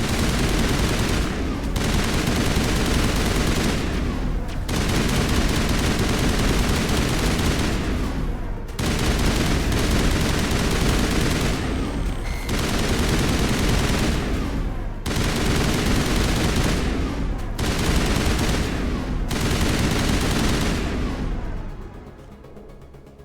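Sustained gunfire in the video game Mass Effect, loud dense bursts of automatic shooting that run for several seconds at a time, separated by brief pauses and ending in quiet.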